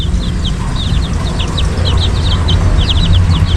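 Chicks of a Rhode Island Brahma hen peep and chirp in quick, repeated bursts over a steady low rumble, with no talking.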